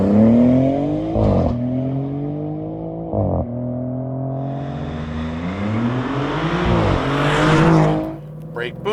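Maserati GranTurismo launching hard from a standstill, engine revving up through several gears with sharp shift breaks, rising loud and close, fading slightly near the end with faint tire noise.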